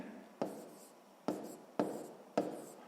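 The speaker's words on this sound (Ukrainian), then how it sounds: "записуємо, що це вийде 3125" Four crisp pen strokes writing a number on paper during a sixth-grade maths exercise, spaced irregularly with brief scratchy tails, close-up and quiet with no voices.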